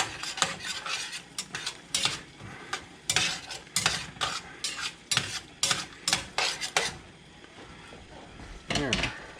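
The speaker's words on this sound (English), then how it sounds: "it's best to scrape off what's on the bottom, and that'll make it into the sauce" A spoon scrapes the bottom of a pot in repeated quick strokes as beef stir fry sauce thickened with cornstarch is stirred, close scraping clatter with a soft sizzle underneath.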